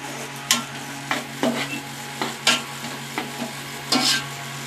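Egg tadka dal with red chili powder being stirred in a pan, a spoon scraping in repeated, evenly spaced strokes over a constant low sizzle.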